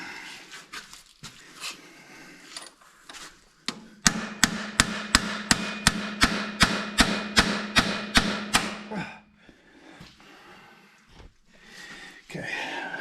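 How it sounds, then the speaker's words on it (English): A hammer strikes a punch in a steady run of sharp metallic blows while removing parts from an MM G900 Amplitorq, about fifteen evenly spaced close hits, with scattered quieter taps before and after. "let me grab a punch and a hammer"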